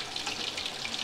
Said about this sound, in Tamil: இப்போ இதை தண்ணி ஊற்றி கொதிக்க விடலாம்.